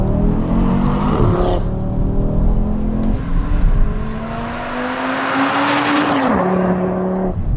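Audi RS3 engine revving hard in performance mode, a loud sustained roar rising and falling in pitch with tires squealing over it, close and continuous.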